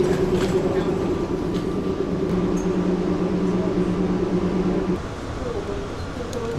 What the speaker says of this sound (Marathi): आलेली आहे CST फास्ट. CST फास्ट आले.